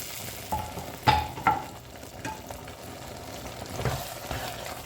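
Tadka tempering for chana dal fry sizzles and crackles in hot oil while being stirred, with a few sharp louder bursts early on over a steady close frying hiss.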